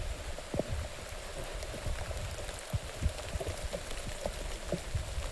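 Rain falls steadily at Avchitgad hill fort near Roha in Raigad during the monsoon, a continuous patter with scattered close drips and splashes, with no talk.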